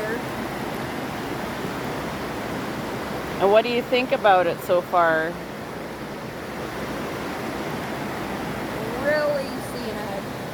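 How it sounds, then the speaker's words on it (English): The Lynn Canyon waterfall in British Columbia roars as a steady, broad rush of falling water throughout. People talk briefly over the constant noise. "This is the waterfall here."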